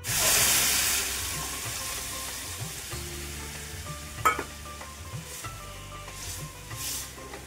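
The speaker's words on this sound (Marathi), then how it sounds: "आता मसाले टोमॅटो सगळं परतलं की इथं वरण टाकून घ्यायचंय" Dal poured onto sautéed masala and tomatoes: a loud hissing burst at first, then a steady sizzle with clinking, scraping stirs, close and with no voices.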